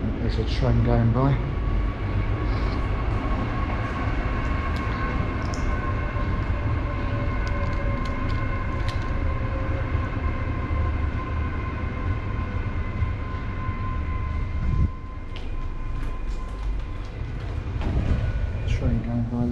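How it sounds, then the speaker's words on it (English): A train rumbles past close by an abandoned-looking factory, a loud steady roar with sustained tonal whines and squeals, with some clattering toward the end. "Train going by."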